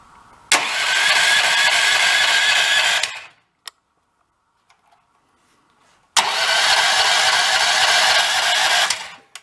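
Used Chinese-made skid steer engine cranking on the starter in two long, loud bursts of about three seconds each, separated by a quiet gap with faint clicks, with no sign of it catching.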